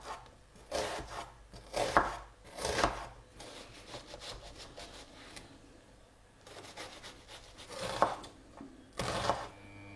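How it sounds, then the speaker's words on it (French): A peeled red onion being cut with a knife on a board, several irregular bursts of chopping strokes with quiet gaps between them, close and fairly soft. "L'oignon, je l'ai pelé, on va maintenant le couper."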